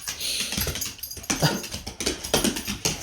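An old, weak dog that struggles to stand makes soft whimpering and whining sounds mixed with small yips and low growls, close up and fairly quiet, in short uneven bursts.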